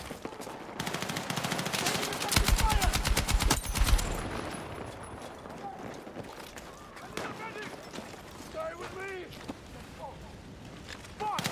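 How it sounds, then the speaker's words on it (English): An automatic gun firing in Battlefield 6, a loud rapid burst of shots lasting about two seconds, followed by scattered distant gunfire and battlefield noise under game voices. "Holy smokes, this gun absolutely rips."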